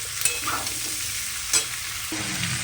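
Onions frying in hot oil for a luchi meal, a steady close sizzle filling the whole clip, with a couple of brief stirring scrapes and clinks.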